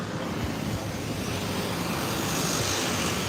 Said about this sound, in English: You're gonna hear a lot of cars running back and forth